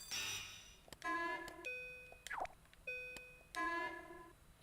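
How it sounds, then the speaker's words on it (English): Sound effects from the video game LittleBigPlanet 3, a sequence of clean electronic tonal beeps and chimes in separate bursts, some stacked chords and one quick falling sweep, heard clearly with no talk. "It's like a beeping sound effect"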